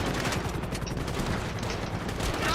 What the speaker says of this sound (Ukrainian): Чого тепер вони максимально по мені стріляють, так само так на воєнній базі.